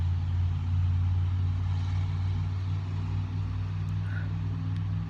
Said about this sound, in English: Man, I don't like loud trucks.